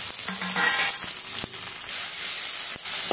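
Onion and tomato fry in a pan with a steady, loud sizzle and hiss, broken by a few metallic scrapes and stirring knocks, with no voices over it.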